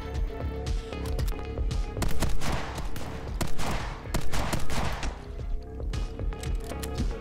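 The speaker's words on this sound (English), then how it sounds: "I can semi-automatic this bolt-action shotgun," Video game gunfire from a bolt-action shotgun or sniper rifle fired semi-automatically in rapid succession, loud and continuous, with a dense spray of sharp reports overlapping one another.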